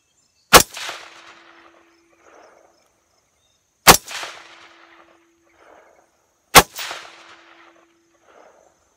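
Three rifle shots fired with cheap Tula ammunition at a 50-yard range, each a loud, sharp crack followed by a short outdoor echo, spaced about three seconds apart, with no talking.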